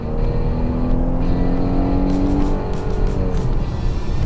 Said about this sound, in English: I'm just gonna give it just a little tiny bit of torque, up to about 1100 RPM, and go.